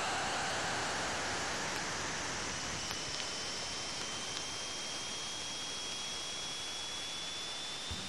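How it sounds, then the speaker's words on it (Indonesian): Sonified data of Saturn ring particles striking the Cassini spacecraft as it passed between the planet and its rings gives a constant crackling hiss with faint rising whistles and a few sharp ticks. "Yang kamu dengar ini adalah partikel cincin yang menghantam wahana tersebut."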